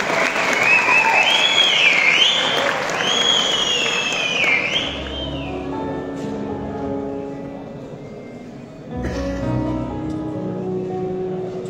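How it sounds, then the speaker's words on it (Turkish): Strong applause from a crowd at a Turkmen associations youth gathering in İnegöl after a live music performance, loud and dense at first, easing midway, with whistles and cheering over the clapping and sustained tones from music playing along. "Güçlü alkışa doğruyoruz efendim."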